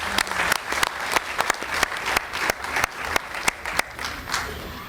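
An audience at an agricultural partnership forum claps steadily, dense applause sustained throughout.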